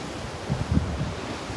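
Sea waves wash on Gokarna beach in a steady, windy surf rush with a slight swell midway and no voices.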